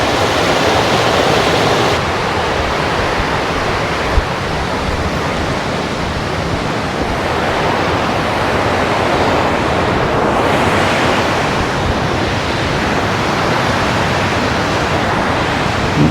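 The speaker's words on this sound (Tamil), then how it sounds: "தண்ணி சவுண்டு" The Koottar river rushes over its bed on a trek near Chinnar, a loud, steady roar of flowing water that fills the whole clip with no voices.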